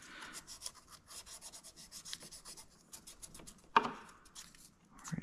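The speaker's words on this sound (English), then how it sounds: "it might help if I put the sandpaper side on it." Sandpaper rubbing on a small strut part of an F-14 scale model, a close, steady, rhythmic scratchy scraping that goes on with one sharper knock near the end and no talking.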